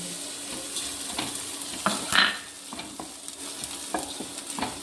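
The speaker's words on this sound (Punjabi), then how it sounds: "ਇਹਦੇ ਵਿੱਚ ਆਪਾਂ ਗੂੰਦ ਪਾ ਕੇ ਭੁੰਨਾਂਗੇ" Edible gum (gond) roasts in ghee in a pan, a steady low sizzle with scattered scraping stirs and one louder clatter midway, heard close with no voices.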